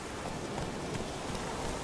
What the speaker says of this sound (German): wo es hier gerade stürmt und regnet